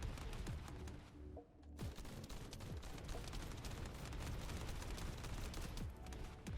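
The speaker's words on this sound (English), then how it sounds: "a lot of damage, a lot of explosions" Dense, continuous video game gunfire from The First Descendant with rapid bursts and heavy explosive booms, loud and chaotic throughout, briefly dipping before the barrage resumes.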